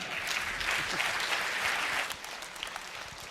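A conference crowd at a console hacking talk on the Wii U applauds the speakers with a thick, even burst of clapping that drops to a lighter patter after about two seconds.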